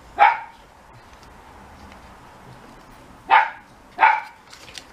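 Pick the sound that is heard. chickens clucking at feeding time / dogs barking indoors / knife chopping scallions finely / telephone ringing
dogs barking indoors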